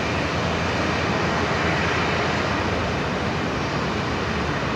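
An aircraft at Brisbane Airport, the Velocity 990 bound for Sydney, produces a loud, steady, broadband engine roar that fills the whole stretch.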